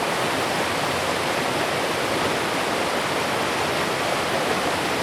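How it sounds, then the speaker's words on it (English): Steady, dense roar of a waterfall captured outdoors, a continuous broadband wash with a low rumble underneath, loud and unchanging throughout with no voices. "Sometimes it's cool, like when I recorded this waterfall."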